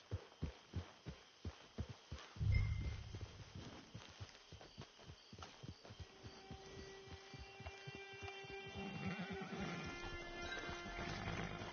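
Hooves clip-clop in a steady rhythm, with a horse's whinny early on, then a low hum and faint musical tones building underneath; no talking. From the video game Red Dead Redemption 2.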